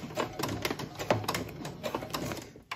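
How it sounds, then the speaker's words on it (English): A sewing machine runs a short back stitch on a vinyl zipper pouch, a close, steady rapid mechanical chatter with slight rhythmic variation throughout. "I'll just do a back stitch."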